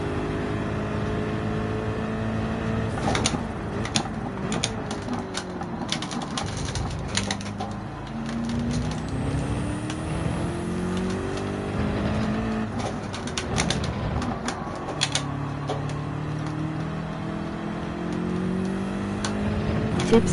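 A Porsche race car engine in Gran Turismo on the Catalunya circuit near Barcelona, revving continuously with rising and falling pitch through gear shifts and corners, loud and steady with no talk.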